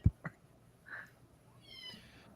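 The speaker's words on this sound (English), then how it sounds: "Yeah, the cat is real." A cat meows a few times in quick short calls, fairly faint and close, in a quiet room with no talk over it.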